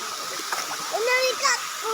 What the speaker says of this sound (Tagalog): Ganda ng talon oh. Busay Falls sa Ginyangan, Quezon.